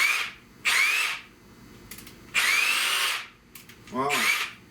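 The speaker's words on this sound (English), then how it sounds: "but thanks to Frankie, I got me a jigsaw, cordless jigsaw out of this deal" A cordless jigsaw cuts in three separate bursts of loud, close buzzing with short pauses between them, during rust repair on a 1970 Buick Wildcat window channel.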